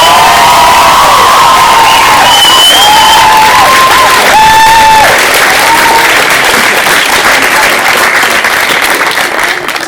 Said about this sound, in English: I'd like to give a really big round of applause for the band.